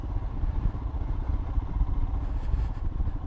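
A 2020 Royal Enfield Himalayan with a single-cylinder engine, riding on a road: a steady, loud, low thumping engine drone with mechanical clatter and rushing wind throughout.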